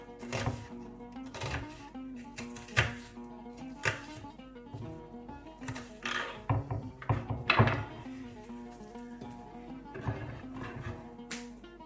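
Knife slicing onions into rings on a board, a close series of irregular chopping thunks and cuts with brief pauses between strokes.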